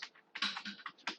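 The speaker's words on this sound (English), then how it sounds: "So here I am typing name of the file as" Quick bursts of keystrokes on a computer keyboard as a file name is typed, a close, soft, irregular clatter of about eight taps with short pauses, no speech.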